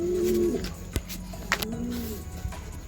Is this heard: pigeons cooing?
yes